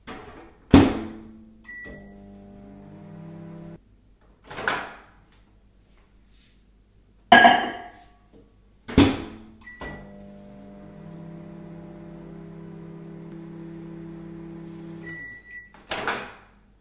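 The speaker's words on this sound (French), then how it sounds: "je commence par faire fondre le chocolat au micro-ondes" A microwave oven melting chocolate runs in short bursts: door thumps and clicks, beeps, then a steady low hum twice, ending with another beep and door sound.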